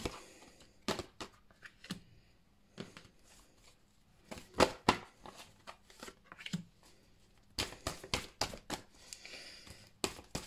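Playing cards being turned over and handled on a table, a run of crisp, close flicks and slaps in uneven bursts, with brief quiet gaps between the clusters.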